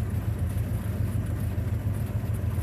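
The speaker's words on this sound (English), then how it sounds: "The plane's pretty loud." A Cessna 172 propeller engine drones loudly and steadily inside the cabin, with a low rhythmic throbbing pulse.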